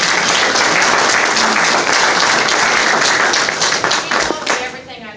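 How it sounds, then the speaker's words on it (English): A crowd at a local Jeffersonville and Clark County gathering gives a loud, dense round of applause that holds steady for several seconds, then thins and tapers toward the end. "I think we owe her a round of applause"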